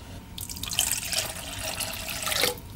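Water runs from a tap into a mixing bowl while dough for twist bread rolls is prepared in a home kitchen, a steady close splashing stream of about two seconds with no talking.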